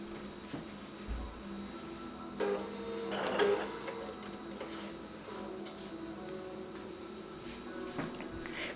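A computerized quilting machine stitching a quilt with poly sheen thread, running as a steady, fairly quiet mechanical ticking hum with faint whirring throughout, no talk.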